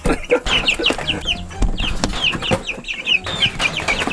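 Several chickens, including chicks in a brooder, are heard up close after a hurricane. They give busy, overlapping clucks and high chirps in quick irregular bursts, with rustling and scratching underneath.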